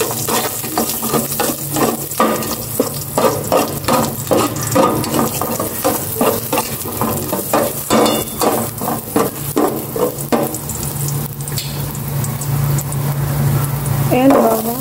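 Ginger frying in a pan, with a steady close sizzle and rhythmic scraping stirs throughout, plus some talking and a brief clatter near the end.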